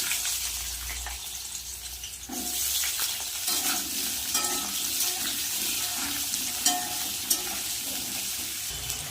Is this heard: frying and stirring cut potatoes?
yes